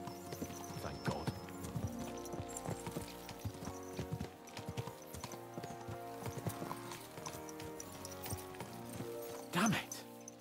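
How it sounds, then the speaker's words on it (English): Horses in a video game gallop with a continuous, rhythmic clip-clop of hooves, a brief whinny near the end, and faint voices underneath. "Let's really spur these horses on, eh?"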